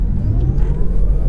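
A 2018 Tesla Model 3 Performance electric sedan launches hard in its race preset, giving a loud, steady, low cabin rumble that stays constant through the whole short stretch, with no talking.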